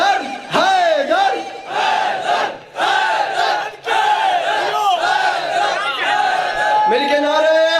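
A large crowd at a Shia majlis gathering in Sajowal chants "Haidar" together in loud, rhythmic unison, the voices rising in repeated surges that fill the whole stretch.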